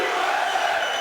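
A large arena crowd at a mixed martial arts event in Mississippi roars in a steady, dense wall of voices chanting USA, continuous and loud throughout.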